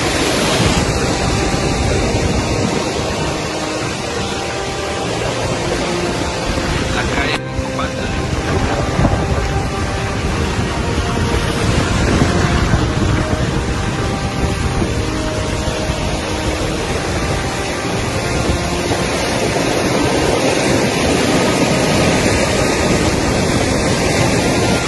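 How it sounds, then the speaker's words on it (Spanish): Heavy sea surf surges in during Hurricane Iota flooding in Honduras, a loud, continuous roar of crashing water and wind that fills the whole stretch with barely any break. "Viene el mar nuevamente."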